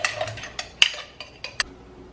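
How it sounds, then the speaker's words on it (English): A spoon stirs thick protein pancake batter in a bowl, giving a few sharp clinks against the side amid soft scraping, close and fairly quiet with no talk. "Keep stirring it, stir,"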